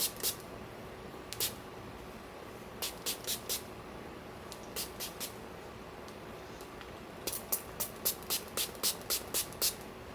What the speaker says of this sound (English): spray bottle.